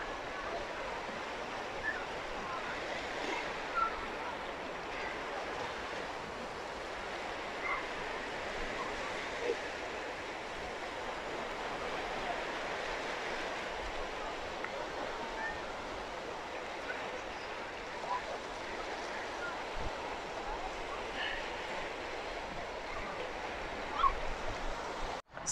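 Sea waves wash along the Jeddah Corniche beach in Saudi Arabia near a seaside mosque, a continuous soft surf rush with gentle swells and no clear breaks.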